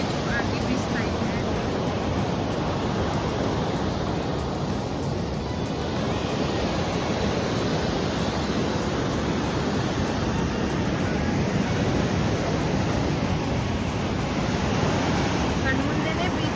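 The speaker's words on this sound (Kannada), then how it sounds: "ತುಂಬ ಗಾಳಿ ಅಂದರೆ ಗಾಳಿ, ಹಾಗಾಗಿ ಅಲೆಗಳು ತುಂಬಾ ಜೋರಾಗಿ ಬೀಸ್ತಾ ಇದೆ" On windy Delta Beach in Udupi, strong sea waves break in a constant, loud roar, blended with heavy wind buffeting the microphone for the whole stretch.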